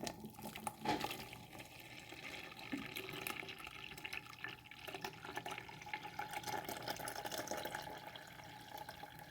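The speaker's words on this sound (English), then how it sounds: "pour everything onto this jug, like so" Cucumber and lemon water poured into a jug, a faint, continuous trickle and splash of liquid that runs steadily for several seconds with no voices.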